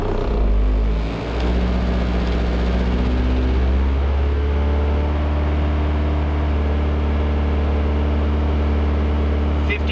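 A 1990-2005 Mazda Miata engine revs up and holds near 2500 RPM during an oil pressure check, a steady close drone after a brief dip, continuous and loud throughout.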